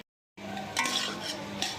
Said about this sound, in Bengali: এবারে এই ডিমটাকে আমি ভালো করে ভাজা করে নিচ্ছি